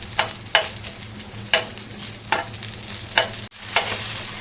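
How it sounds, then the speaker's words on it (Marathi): Green chillies roast in a pan with a steady background hiss, broken by a series of sharp stirring scrapes at roughly regular intervals, close and fairly loud, with no talking. "फक्त मिरच्याला चांगलं भाजून घ्या"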